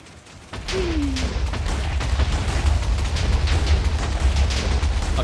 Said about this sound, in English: this should create a lot of explosions